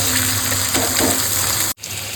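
Spices and a little ginger frying for a salted hilsa fish curry make a steady wet sizzle and bubbling, with a few soft stirring knocks, then an abrupt cut near the end before the sizzle resumes more faintly.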